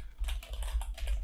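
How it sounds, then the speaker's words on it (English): Rapid typing of source code on a computer keyboard: a quick, uneven run of close, crisp key clicks, heard on their own with no talk. "this mode is for practicing typing source code"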